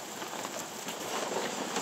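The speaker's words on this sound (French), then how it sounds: "mais il pleut. Du coup, on est trempés" Steady rain falling in a national park, a dense even patter of drops on surfaces, close and moderately loud with no voices.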